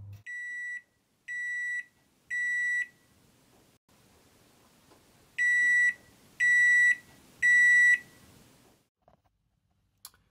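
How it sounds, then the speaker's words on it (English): A microwave oven buzzer gives two sets of three high-pitched electronic beeps, evenly spaced with a pause between the groups, clear and fairly close in a quiet room. "You know that beeping sound? It's beeping for like a full irritating minute or so."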